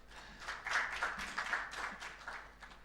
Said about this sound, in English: he deserves a big clap.